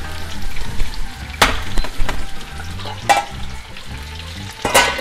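New potatoes frying in a pan, a steady close sizzle punctuated by sharp clacks and scrapes of stirring.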